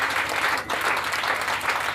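Church congregation applauding during a sermon, a dense steady wash of many hands clapping together for about two seconds, close and fairly loud with a brief dip partway through.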